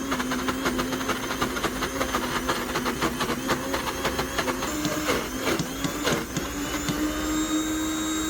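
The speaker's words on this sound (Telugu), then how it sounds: "ఇలా ఊపితేనే మిక్సీ కొడుతుంది" A mixer grinder blending peanut chutney, a steady loud motor whine with rhythmic rattling clatter as the jar is shaken, continuous throughout.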